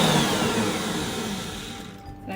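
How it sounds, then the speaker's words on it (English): Five eggs being beaten in an electric mixer, a loud continuous whirring drone that stays steady before easing off slightly at the end. "I'm going to mix those up in my mixer."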